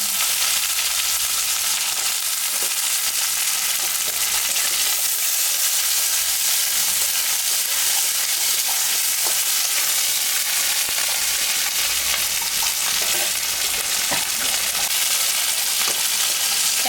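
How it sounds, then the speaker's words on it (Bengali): Loud, continuous hiss and crackle of jackfruit seeds and green chillies frying in a pan, steady throughout with occasional stirring scrapes. "ভাজা ভাজা হয়ে গেছে"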